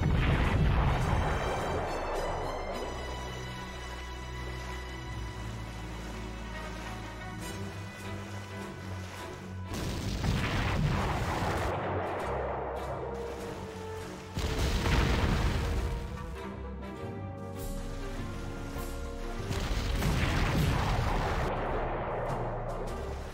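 Repeated heavy booms from battleship gunfire in the Panzer Corps war game, each deep blast rolling out over a steady music-like bed, with several evenly spaced loud surges across the stretch and no talk.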